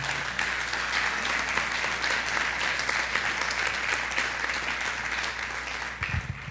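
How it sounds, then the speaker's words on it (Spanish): A church congregation at a Sunday service applauds steadily for about six seconds, a dense, even clatter of many hands that ends with a brief low thump near the close. "¿Cuánto le dan un aplauso al Señor?"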